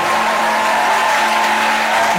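A church congregation at a French-language edification and restoration seminar gives a loud, steady acclamation to the Spirit of God, a dense wash of clapping and crowd noise filling the room without pause.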